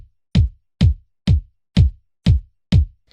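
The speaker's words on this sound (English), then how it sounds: "I found a sound called New UK Kit 1. That's what it's called on the Roland FA-07. Wonderful. Okay, so this is the bass drum." Six evenly spaced, deep punchy bass drum hits from the New UK Kit 1 on a Roland FA-07 keyboard, each with a short decay, played alone at a steady pace.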